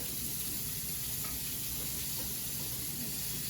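Shrimp for avocado shrimp sizzle steadily in a hot pan as they are packed in, a continuous close frying hiss with no voices.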